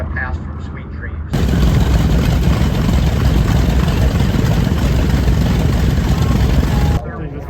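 The vintage aircraft Sweet Dreams makes a pass at the Buckeye Air Show in Arizona, a loud, sustained engine roar that bursts in and holds for several seconds before cutting away, with voices at either end.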